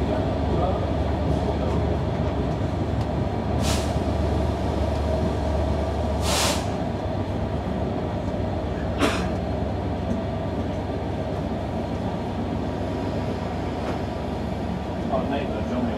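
A passenger train at Newport station in South Wales gives a steady low rumble of the carriage throughout, with a few brief high squeals standing out over the constant noise.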